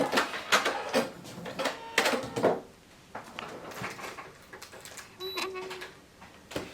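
Sewing machine stitching 3.5-inch quilt logs onto a center square for a half log cabin quilt block, with uneven mechanical whirring bursts and clacks that rise and pause close by.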